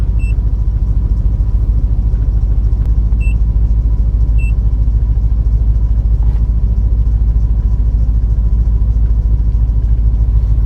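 A car engine idles steadily after its OBD2 fault codes have been erased and the check engine light has gone off, a loud, even, close rumble with a few faint electronic beeps near the start.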